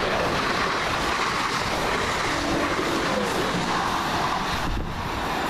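A passenger train running from Poole to London Waterloo passes at Swaythling as a loud, continuous rushing roar, mixed with wind buffeting the microphone, with no voices.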